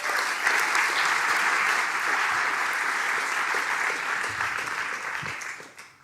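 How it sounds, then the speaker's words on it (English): Sustained applause from an audience welcomes a speaker at a graphic design talk event, steady and dense for several seconds before tapering off at the end, with no voices over it. "So please give a warm applause for Erwin Slegers."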